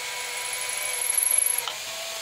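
A power drill runs steadily at high pitch while a CNC gantry is being built, boring into material with a slightly pulsing load, then spinning down near the end.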